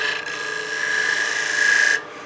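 A wood lathe gouge makes a slicing cut on a small wooden mushroom Christmas ornament, a steady close hissing rasp with a whining tone that builds slightly and then stops abruptly near the end.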